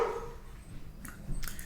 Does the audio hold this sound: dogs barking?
yes